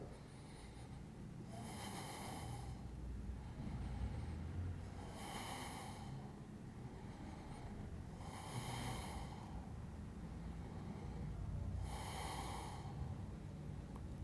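Slow, deep breaths taken while holding a plank during a yoga-style workout, four long airy exhales spaced about three seconds apart, close and clear over a low steady background rumble.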